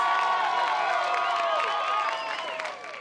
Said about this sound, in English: One more round of applause for our finalists.